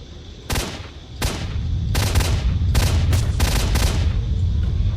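Repeated bursts of gunfire in S.T.A.L.K.E.R.: Shadow of Chernobyl, several loud volleys cracking in quick succession over a steady low rumble, with no talking.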